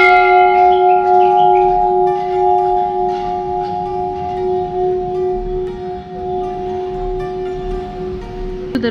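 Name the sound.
large temple bell ringing at Danteshwari Temple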